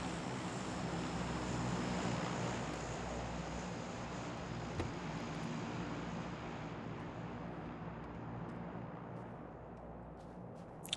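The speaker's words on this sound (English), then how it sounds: "I'm gonna move out when the plane has passed here" A propeller airplane flying over in the PUBG game on the Vikendi map, a steady loud engine drone that lingers throughout and slowly thins toward the end.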